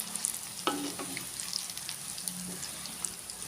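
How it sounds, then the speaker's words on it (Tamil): Tamarind pulp sizzling and frying in the same oil used for ginger in a pan, a steady close hiss with small stirring scrapes and bubbling, no voices. "இஞ்சி வதக்குனா அதே எண்ணெயிலேயே இதையும் போட்டு வதக்கி எடுத்துக்கலாம்"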